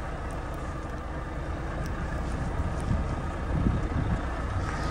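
Wind and rain on a road, likely while riding, make a steady broadband roar with heavy low rumble. The noise holds even throughout and rises a little near the end, with no voices.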